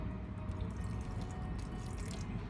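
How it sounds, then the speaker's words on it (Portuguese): Water is poured into bread dough in a pan, a steady trickling and splashing flow that stays quiet and even throughout, with no talking. "Vou colocar agora mais um pouco de água."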